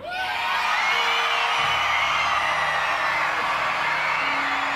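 An audience at MINECON 2016 screams and cheers in a big indoor hall, a loud sustained roar of mostly young voices with high whoops, building quickly and holding steady throughout.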